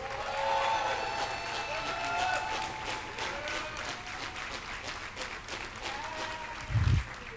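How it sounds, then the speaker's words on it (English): An audience at the NYC Black Pride 2022 Heritage Image Awards gives another round of applause, moderate clapping and crowd noise throughout with a brief low thump near the end. "Give them another round of applause."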